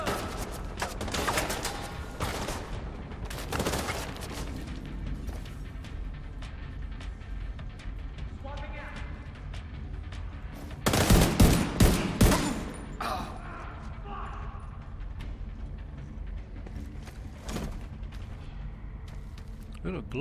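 Enemy gunfire in The Division 2 comes in scattered bursts, with a louder rapid volley midway, mixed with game ambience and someone talking over it.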